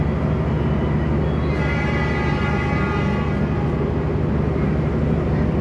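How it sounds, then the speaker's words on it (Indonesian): The Lodaya passenger train departs a station on its run from Bandung to Solo Balapan, a steady loud rumble and hum of the moving train filling the clip with no voices. "Dan yang diberangkatkan ini adalah kereta api Lodaya dari Bandung tujuan akhir stasiun Solo Balapan."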